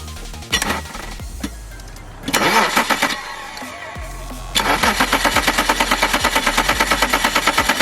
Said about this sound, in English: All right, Nate, give it a crank.